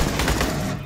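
A rapid burst of gunfire in the shooter game Aliens: Colonial Marines, a loud, dense rattle lasting under a second before tapering off.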